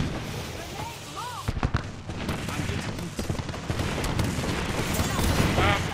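Gunfire in a match of Apex Legends, a dense spread of overlapping shots and bursts over busy game ambience, with a sharp cluster of louder reports near the middle and steady firing carrying on to the end.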